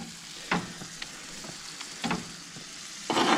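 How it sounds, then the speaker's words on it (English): Burgers sizzle steadily on a hot griddle, with occasional scraping and tapping of a spatula; no talking. "We're just going to let them lay here and finish frying."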